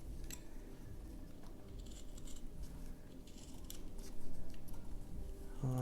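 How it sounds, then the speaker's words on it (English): Knife making a stop cut and then slicing toward it while whittling a wooden Halloween goblin, a few quiet, close scraping and snicking strokes against soft background noise. "One stop cut, and cuts towards it."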